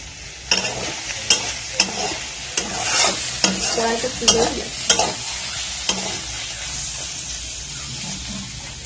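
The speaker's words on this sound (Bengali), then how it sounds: "দেখতেই পাচ্ছ এখানে আমার পেঁয়াজ কলি ভাজা হয়ে গেছে।" Spring onion stalks fry in a pan with a steady sizzle while a utensil scrapes and stirs through them in a series of sharp, uneven knocks, close and fairly loud.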